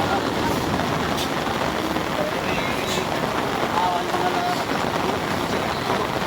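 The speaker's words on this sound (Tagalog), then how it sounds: "wala pa naman tigil ang ulan" A steady hiss of rain falls throughout during flooding in Calayo, with a dull rumble underneath, constant and enveloping, with no clear voices.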